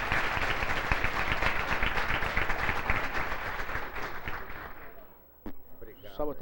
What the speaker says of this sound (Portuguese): eu quero pedir a vocês aí uma salva de palmas, professor Marcos Bittencourt